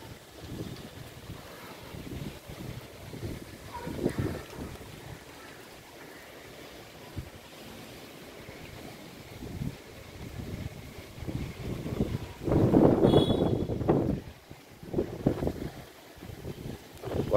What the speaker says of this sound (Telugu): గాలి చెట్లు తూగిపోతున్నాయి,